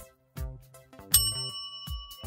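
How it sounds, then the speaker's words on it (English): An electric bell gives one bright struck ding that keeps ringing with a steady, lingering tone, heard clearly among other tonal sounds. "How does an electric bell work?"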